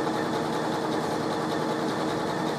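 A Janome Skyline S7 sewing machine stitches a quilt in a continuous, even whir with a fine rapid needle rhythm, steady and close without pauses or voices.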